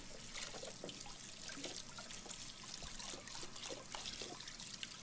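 Water runs steadily from a kitchen tap while dishes are washed in the Captain Spirit video game, a continuous close trickling and splashing with no voices.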